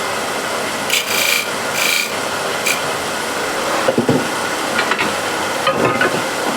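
A file rasps a small chamfer into wood, giving short bursts of scratchy strokes, then a few lighter scrapes and taps, close and alone without talk.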